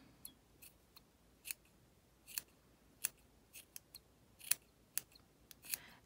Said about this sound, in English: Just cut your extras.